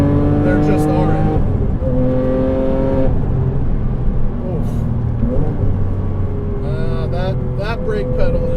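A turbocharged 2007 Porsche Cayman S is driven hard on a track, its engine droning loud and close with pitch rising and falling through revs and gear changes. Faint muffled talk may sit beneath it.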